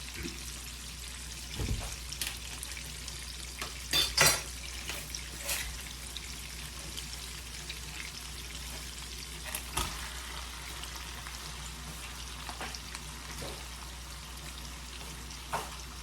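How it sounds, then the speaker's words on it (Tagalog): Pork frying with vegetables in a pan, a soft continuous sizzle with intermittent clacks and scrapes of stirring, close but fairly quiet, no voices. "Tapos, hayaan natin maluto yung karne guys."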